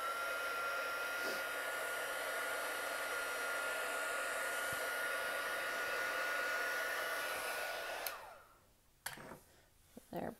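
A hair dryer blows steadily and close up over wet watercolor paint on a Lenten rose painting, a loud continuous whoosh for about eight seconds before it switches off, followed by a few soft clicks and handling sounds.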